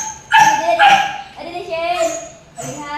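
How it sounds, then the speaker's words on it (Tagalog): A pet dog yips and barks excitedly at close range, several sharp high barks in quick bursts with whiny tones between them, while someone talks over it. "Tahol-tahol na yung alaga kong aso"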